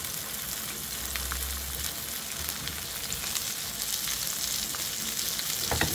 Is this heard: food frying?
yes